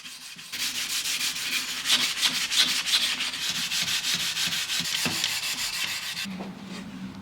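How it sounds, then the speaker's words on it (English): Rough hand sanding of painted mid-century modern wood furniture before stripping, a steady raspy back-and-forth scrubbing with quick strokes, close and continuous, no talking. "I always do a rough sand prior to application"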